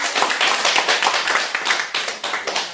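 A lecture audience gives a hall lecturer a warm round of applause, dense continuous clapping with sharp individual claps standing out, steady and loud throughout.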